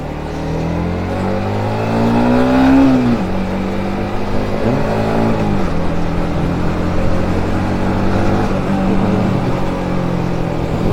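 A Yamaha MT-15 motorcycle engine revs during a test ride, its loud, steady drone rising in pitch around the second and fifth seconds before settling into a sustained hum, with no talk.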